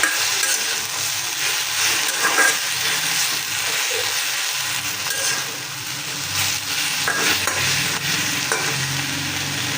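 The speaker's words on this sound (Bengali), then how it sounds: "শাকটা তেলে দিয়ে দিচ্ছি।" Saag greens frying in hot oil in a pan, a dense continuous sizzle with scraping stirring strokes throughout, loud and close, no voices.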